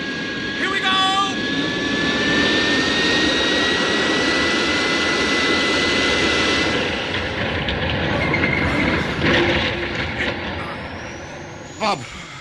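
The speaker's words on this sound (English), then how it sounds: "Stand by for crash landing." Radio drama crash landing of a rocket ship on the moon: a loud, sustained roaring engine rumble with a rising whine, building through the landing and ending in a sharp impact burst near the end.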